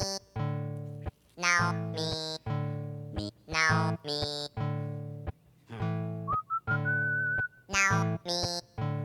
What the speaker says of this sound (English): The whistling is nice.